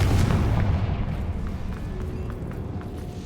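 A Confringo fire spell goes off in the Hogwarts Legacy game, a heavy booming blast up front that rolls into a decaying rumble with scattered crackling debris.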